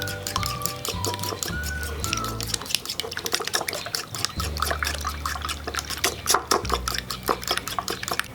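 Shrimp mixture for a Thai omelette-wrapped curry custard being stirred in a bowl, a busy run of close clinks, scrapes and wet sloshing with a steady low hum beneath.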